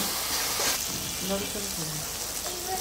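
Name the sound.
dried fish sizzling as it is sautéed with spices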